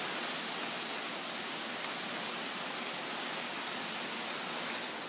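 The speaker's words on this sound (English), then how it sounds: "it was very dry, and we needed this rain" Steady, dense rain pours down during a morning thunderstorm, a constant close wash of hiss with no pauses and no voices.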